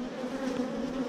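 Steady, close buzzing of honeybees at a hive being worked by a beekeeper, a continuous low drone with no voices.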